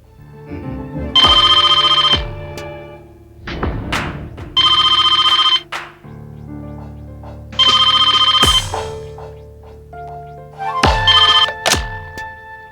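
An old-style telephone bell rings in four bursts, loud and close, with short pauses and a few thumps between rings.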